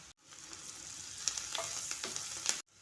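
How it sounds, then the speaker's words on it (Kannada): Onions fry in oil in a pan with a steady, fairly quiet sizzle, broken by a few brief crackles and pops, with no talking. "ಈರುಳ್ಳಿ ಎಲ್ಲ ಕಲರ್ ಚೇಂಜ್ ಆಗುವವರೆಗೂ ಎಣ್ಣೆಯಲ್ಲಿ ಫ್ರೈ ಮಾಡ್ಕೋಬೇಕು"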